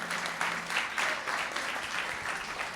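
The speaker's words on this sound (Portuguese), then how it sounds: "Uma salva de palmas para a Camila, por gentileza." An audience gives a round of applause, a steady wash of moderate, somewhat distant clapping that continues evenly without speech over it.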